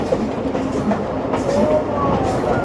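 Loud, continuous rattling and rumbling fill the inside of a Pakistani local train travelling from Lahore to Shorkot, with faint wheel squeals and a hint of distant voices under the steady carriage noise.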